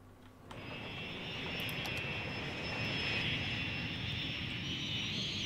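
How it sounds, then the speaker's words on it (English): A jet airplane takes off in the city-building game Cities Skylines, its engine roar rising steadily and holding as a loud, broad whine with a high tonal hum through to the end. "I love the plane takeoffs on this."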